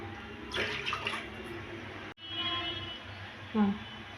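Water is poured into a pot in a home kitchen to be boiled for rava vada, about three cups, in two short splashing bursts with a brief gap and a clunk near the end.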